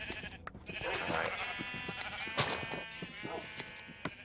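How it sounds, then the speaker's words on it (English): Sheep in the video game Minecraft bleat repeatedly while being sheared, a series of wavering bleats over clicking game sounds, with someone speaking briefly. "Shaving the sheep. As you casually do with shaving the sheep."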